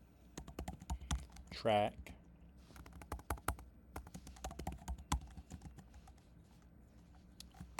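Computer keyboard keys clicking in irregular bursts as a git lfs command is typed, close and fairly quiet, with someone speaking over the keystrokes.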